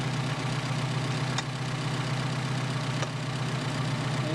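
A Mercedes 190SL engine idles on Solex PHH44 carburetors with a steady low drone that stays even and fairly loud, broken only by a couple of faint clicks.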